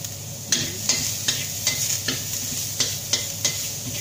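Garlic and shallot sautéing in a pan for pineapple fried rice: a steady sizzle beneath regular, sharp scraping strokes of a spoon or spatula, about two or three per second, close and fairly loud.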